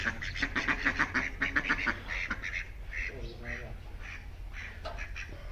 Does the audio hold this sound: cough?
no